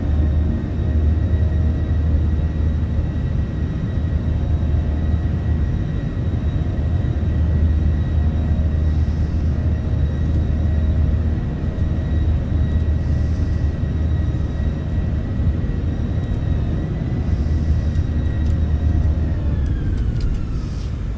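Airliner engines spooled up to set takeoff thrust on a flight from Roanoke to Northwest Arkansas, a loud, steady low roar with a constant whine, continuous and unbroken throughout with no talking.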